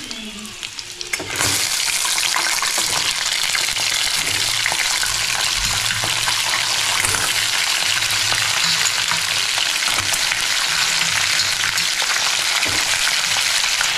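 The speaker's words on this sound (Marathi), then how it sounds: "तर मित्रांनो तेलामध्ये मुठे टाकून घेतलेले आहेत." Muthe dumplings dropped into hot oil, a loud, close frying roar that bursts in after a brief quieter moment and then holds a steady, dense bubbling sizzle throughout.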